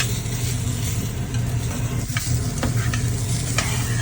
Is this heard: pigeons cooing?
no